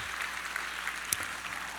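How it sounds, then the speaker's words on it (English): Audience at a speech giving warm applause, a steady faint wash of many hands clapping from a distance, with one sharper clap standing out near the middle. "give them a warm applause for me"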